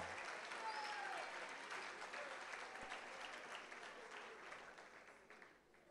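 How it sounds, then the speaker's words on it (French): Thunderous audience applause for a presenter from a law firm, broad sustained clapping from a sizable crowd, fairly distant and soft, slowly tapering toward the end with a faint whistle or cheer near the start. "Je vous invite à faire un tonnerre d'applaudissements à M. James Sola du cabinet IADL."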